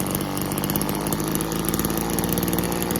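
A Tanaka string trimmer's small two-stroke engine runs steadily at a low idle, a continuous buzzing drone with a fine rapid pulse, close and fairly loud.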